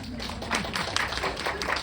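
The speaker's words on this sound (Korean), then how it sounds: "박수 한번 주겠습니다." A seminar audience of business people gives a brief round of hand clapping, a quick cluster of overlapping claps at moderate volume.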